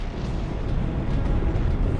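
Supernova explosion effect: a dense, continuous roaring rumble heavy in the low end, loud and sustained with no distinct onset or break, alone without any voice.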